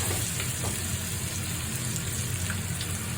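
Butter melting and sizzling in a hot pan over lowered gas while preparing sole meunière: a steady, close frying hiss with faint crackles running throughout, with no talking.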